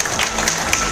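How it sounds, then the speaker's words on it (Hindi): Indoor audience at a training event breaking into brief applause, a short burst of clapping from a crowd at moderate volume. "तालियां हो जाए उनके लिए।"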